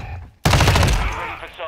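One sharp, loud sniper rifle shot in Call of Duty: Modern Warfare 2 cracks out suddenly after a quiet moment, then rings out in a heavy, sustained tail.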